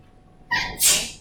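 A single sharp sneeze in a classroom lecture, a quick intake followed by a loud bright burst, close and alone.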